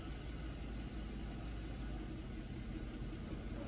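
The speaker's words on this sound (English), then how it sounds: "it kind of sounds like it's like struggling to idle, and it's even lower than it was before" A car engine struggles to idle at low RPM during an EGR/PCV system test: a steady, low, uneven rumble with a faint, rough throb, heard close and without talk.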